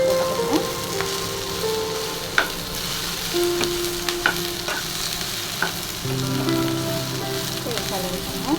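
Sliced rounds of okra frying in a pan, a steady close crackling sizzle with occasional sharp pops and stirring clinks throughout, no voices.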